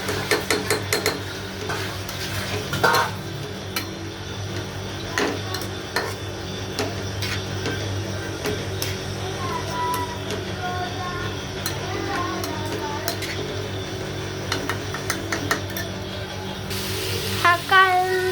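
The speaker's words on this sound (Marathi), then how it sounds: "मस्त असं कांदा गोल्ड ब्राऊन होईपर्यंत परतून घ्यायचा आहे." Chopped onion sautéed and stirred in a pan until golden brown, with steady clinks and scrapes of a spoon against the pan over a low, continuous sizzle close by.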